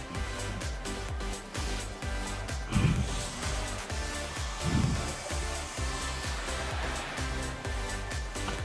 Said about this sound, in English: now I'm just going to waft the air from the dryer into the shape